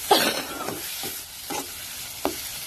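Tomatoes fry in a kadai under a steady sizzle, broken by several sharp stirring scrapes spaced out at an uneven rhythm, close and clear with no talking.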